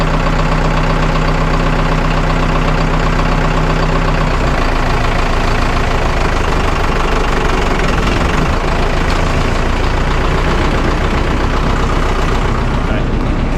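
A Vermeer 1800 engine runs on its first start in four years, a loud, steady, rough low rumble with a knocking edge that fills the whole stretch and shifts in tone about a third of the way in.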